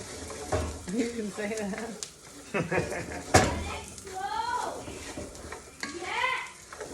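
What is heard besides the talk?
rice toasting and popping in a pan for mushroom risotto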